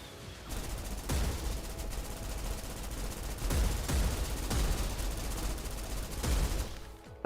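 Turret gunfire in a video game comes as steady, dense rapid fire that swells in bursts of louder volleys across the stretch, moderately distant and continuous, with no voices.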